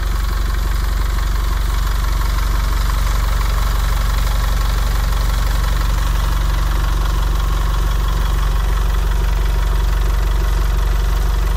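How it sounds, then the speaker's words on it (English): A bus engine idles steadily and loudly close by, a continuous low rumble with a faint knocking texture, running unchanged for the whole stretch with no talk. "Whilst the engine is running"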